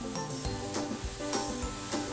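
Flour and butter mixture stirred into pot pie filling of turkey leftovers in a sizzling pot, a steady frying hiss with soft spoon scrapes and stirring strokes, close and alone.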